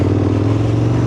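A KTM 1290 Super Duke R gen 2 engine on throttle, a brief, loud, close low rumble held steady for about a second.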